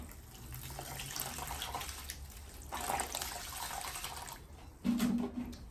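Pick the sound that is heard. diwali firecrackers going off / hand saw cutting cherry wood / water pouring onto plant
water pouring onto plant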